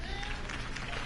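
Crowd applauding at a Gotham mayoral campaign rally in the Batman Telltale video game, a dense continuous wash of clapping with cheering mixed in, loud and full.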